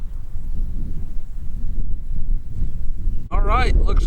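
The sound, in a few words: wind blowing outdoors at shooting range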